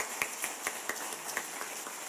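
A small crowd at a speech, clapping sparsely: about eight separate, fairly even claps spaced roughly a quarter second apart, faint and a little distant, with no voices over them.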